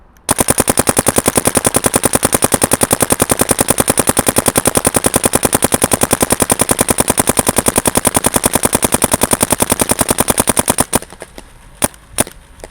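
A Dye M3+ paintball gun fires a long rapid string of shots, a dense, even stream of sharp pops lasting about eleven seconds, then three last isolated shots after it stops.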